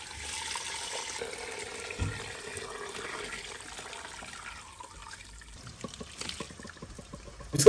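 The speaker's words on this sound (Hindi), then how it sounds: "अभी हम लोग एक छन्नी में डालते हैं इसको।" Curdled milk for homemade paneer poured into a strainer, a steady watery pour and trickle of whey close by, easing off into drips and clatter before a sharper splash at the end.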